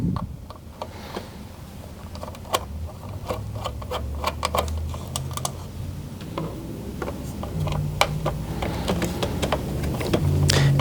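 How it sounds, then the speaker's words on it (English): A Phillips head screwdriver backs out screws from a radio mounting bracket in a 2014-2019 Toyota 4Runner dash, making close, irregular clicks and small ratcheting ticks with light rattles of metal parts, and no voices. "We're going to use that Phillips head screwdriver again, and we're going to remove 2 screws on either side of these mounting points"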